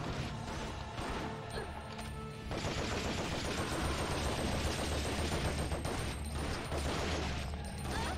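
Rapid gunfire rattles in Resident Evil Outbreak on PS2, at first sparse shots, then a dense, continuous burst of loud automatic fire that fills the rest of the moment.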